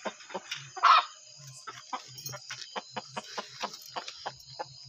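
Broody hen clucking in a coop at night, a string of short, sharp clucks and low murmurs repeating every fraction of a second, close and fairly quiet with one louder squawk near the start.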